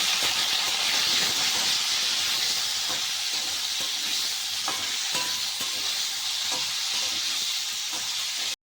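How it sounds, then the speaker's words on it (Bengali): Beans and potatoes frying with slit green chili and salt in a pan, giving a loud, steady, dense sizzle and hiss with faint scrapes, alone without talk. "সিম আর আলুটাকে ভালো করে ভেজে নিয়েছি"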